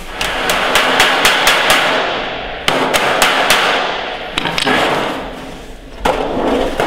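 Close, loud hammer taps folding down the metal tin corner of a beehive roof, quick bursts of ringing strikes then pauses, repeated in several rapid groups with no talking over them.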